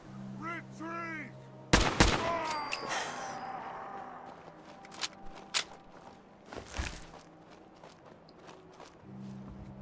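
Assault rifle shots in Fallout 4 survival mode, a few loud sharp bursts among footsteps, thuds and game effects, with voices heard briefly between the shots.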